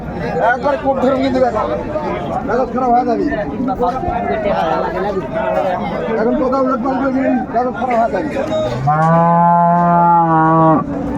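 Cows and calves moo repeatedly amid a busy crowd of chattering voices at a livestock market, with one long, loud bellow near the end rising above the babble.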